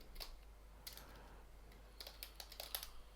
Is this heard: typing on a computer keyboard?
yes